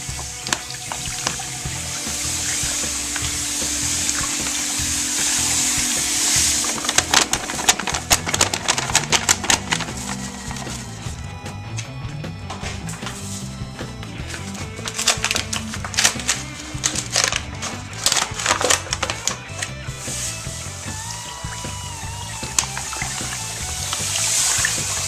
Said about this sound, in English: take the sugar, pour it straight in.